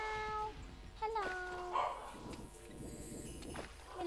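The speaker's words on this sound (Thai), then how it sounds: "ทุกคนได้ยินเสียงหมาเห่าปะนะ" A dog barks faintly in the distance, a few brief yips under a steady bed of background music and sound.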